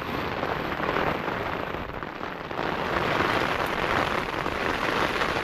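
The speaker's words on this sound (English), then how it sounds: "Strong rain." Heavy rain drums loudly and steadily on a tent overhead during a winter storm on Dartmoor, a dense continuous patter that swells slightly partway through, with no voices.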